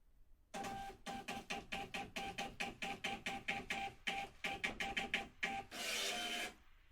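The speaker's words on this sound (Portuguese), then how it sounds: "será impresso na impressora fiscal o relatório fechamento de caixa" Fiscal printer running off a cash register closing report: a rapid series of loud mechanical printing bursts in a steady rhythm, ending with a longer grinding feed or cut, alone without speech.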